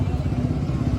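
Several superbikes, including Suzuki Hayabusas and a BMW, idle and rev at an outdoor superbike gathering during a Sunday ride, with a dense, steady low engine rumble and some clatter filling a brief moment, with crowd babble in the background.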